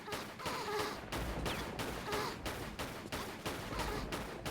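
Lara's pistols fire in Tomb Raider 4, a steady run of about nine sharp, evenly spaced gunshots with a loud, clear rhythm and no speech.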